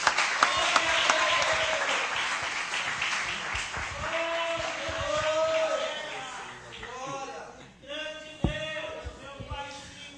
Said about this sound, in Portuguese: Aplaude o nome do Senhor que ele merece.